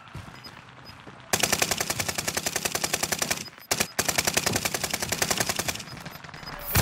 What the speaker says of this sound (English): I'm just shooting everybody so you can get the kill.